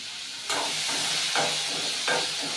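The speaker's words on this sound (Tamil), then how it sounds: "அப்புறம் இந்த வெங்காயத்தை தூக்கி இதுக்குள்ளே போட்டுடலாம்" Sliced onions tipped into a pan of frying dried fish, a steady close sizzle and hiss with three soft scraping stirs of a spoon at regular intervals, no talking.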